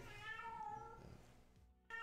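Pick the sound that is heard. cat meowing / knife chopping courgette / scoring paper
cat meowing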